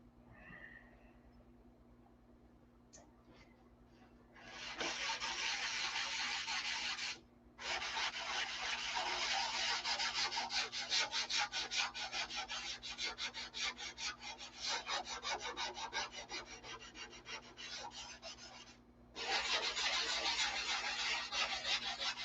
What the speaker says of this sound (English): if you're wondering why I'm not sanding vigorously over the whole thing